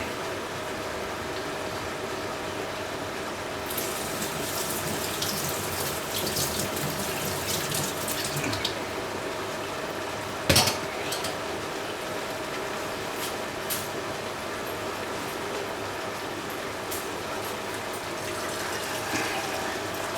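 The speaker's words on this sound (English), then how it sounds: "I always wash the rice first in cold water" Cold tap water runs steadily into a rice pan for curry, a continuous close splashing stream with one sharp clatter midway and no talking.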